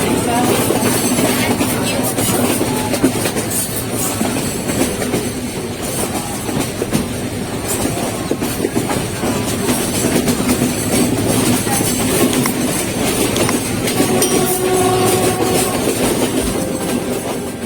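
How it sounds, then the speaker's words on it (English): A 1965 standard-gauge Victorian passenger train bound for Melbourne rumbles steadily along the rails, loud and close, with continuous wheel noise and faint clickety-clack throughout. "a standard gauge Victorian train down to Melbourne"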